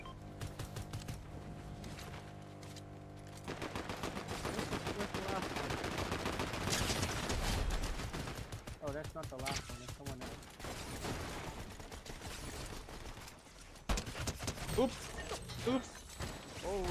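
Rapid Fortnite gunfire rattles in bursts of repeated shots, loud and close, alongside game music and effects, with people talking over parts of it.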